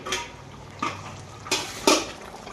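Four sharp metallic clanks from a pot lid being moved on a cooking pot of chicken maharani, evenly spaced over a quiet kitchen background.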